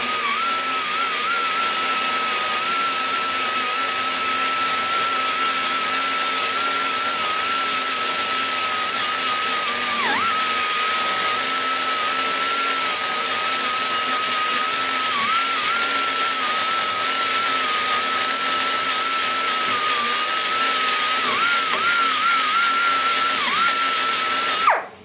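Power cutter trimming excess valve guide flush with the aluminum guide boss on big block Chevy 345 cylinder heads; a continuous, close, high-pitched grinding whine holds steady for the whole stretch, alone without speech.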